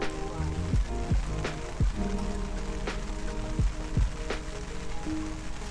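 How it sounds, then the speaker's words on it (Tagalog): Rain falling steadily on a motocamping spot at a farm in Tanay, a dense, even patter close by with a few sharper drops and knocks scattered through it. "Sakto umuulan na naman."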